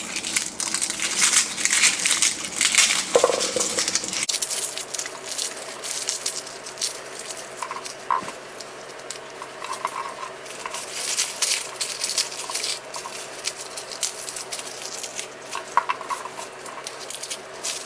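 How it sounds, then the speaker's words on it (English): Knife chopping garlic and onions on a cutting board while making shrimp scampi pasta, a steady run of close, crisp cuts and scraping that continues for a long stretch with no talk. "let's start by chopping our garlic and onions."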